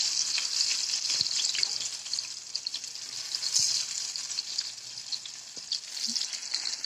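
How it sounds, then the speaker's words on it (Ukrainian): Meat patties sizzle and fry in a pan with a steady crackling hiss, punctuated by a few soft clicks and knocks of a utensil, close and continuous without speech. "І перевертаємо з другої сторони, смажимо."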